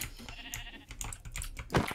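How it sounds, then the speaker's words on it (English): Sheep bleating as they are struck and killed in Minecraft, a few short hurt bleats over quick clicking taps, with one louder burst near the end. "Yeah, I'm just killing sheep."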